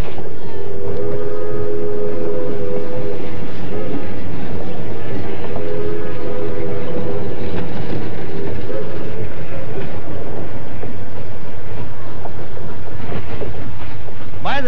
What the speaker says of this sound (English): please, don't anybody get off our train and run ahead of our locomotive